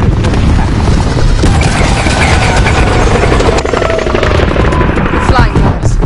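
Helicopter rotor and engine roar mixed with bursts of gunfire in Call of Duty Modern Warfare, loud and continuous during an airbase assault, with voices talking over it.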